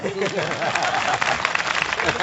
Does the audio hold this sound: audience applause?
yes